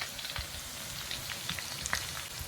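Chili chicken frying in a pan, a steady close sizzle with faint crackles and pops throughout, no voices.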